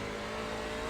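A NASCAR truck engine in a racing video game at Oulton Park drones steadily and loudly, its continuous high-revving tone held with slight throttle modulation and no pauses.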